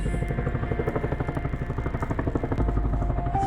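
Chinook twin-rotor helicopter coming in to land at East Sale through bushfire smoke, a loud, close rapid thudding of rotor blades pulsing steadily throughout, with no voices.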